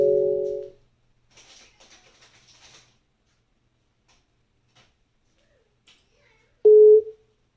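A telephone ringback signal heard while dialing a number: a short steady tone at the start, then quiet faint clicks, and another loud tone burst near the end, with no talking.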